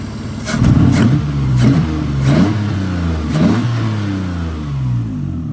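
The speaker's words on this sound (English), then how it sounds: "We'll give it a couple revs, but it's extremely loud" A car engine revs up sharply several times in a row, each burst rising and falling back to a loud, rumbling idle.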